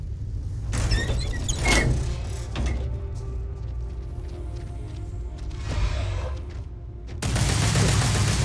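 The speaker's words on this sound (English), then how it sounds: "Shooting." Gunfire in Starfield on the planet Kreet during a Terrormorph attack, with loud bursts of shots near the start and a heavy rattling volley at the end, separated by a quieter, humming stretch.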